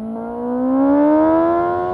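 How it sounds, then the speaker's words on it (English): Motorcycle exhaust while riding, a loud close engine note rising smoothly in pitch as the bike accelerates, swelling and then easing slightly, no speech. "Can't get over this exhaust, man."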